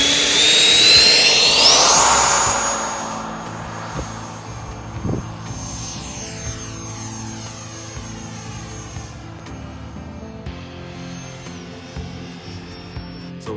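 A Freewing 90mm F-22 RC electric ducted-fan jet with the stock FMS cone screams past, its high whine rising and sweeping down in pitch as it passes close, then fading into a softer distant hum.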